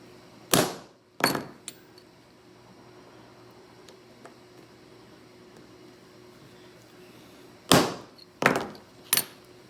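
Sharp metallic hammer taps on a transfer punch, two close together, a pause, then three more, ringing crisply in a quiet machine workshop.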